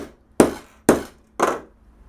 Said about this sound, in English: you knock it out of shape a bit with an hammer